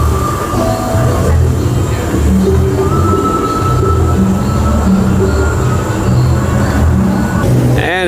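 An Iron Gwazi roller coaster train runs during two-train testing at Busch Gardens Tampa Bay, a loud continuous rolling rumble with metallic wheel squeals and whines, heard amid background crowd noise and talk.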